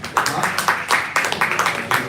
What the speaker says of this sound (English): Let's give another round of applause again